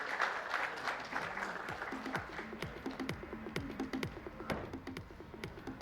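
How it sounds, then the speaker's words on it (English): Audience applause at an insurance industry panel talk, a fairly faint, even patter of clapping lasting several seconds, with some murmur of voices mixed in. "Can we have a huge round of applause for him as well?"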